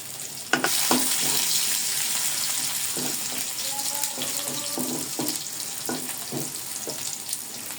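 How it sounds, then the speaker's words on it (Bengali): Chilies, garlic and potato pieces fry in oil, giving a steady sizzle broken by sharp utensil knocks and scrapes against the pan, and a brief faint sound in the middle that may be a voice. "এখন এগুলোকে সুন্দর করে একটু ভেজে নিব তেলের সাথে"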